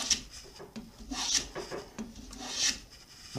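A wooden foundry pattern for atlas compound slides being smoothed by hand, with a quiet, steady run of rasping, rubbing strokes of wood and a few brighter scrapes, close up and without talk.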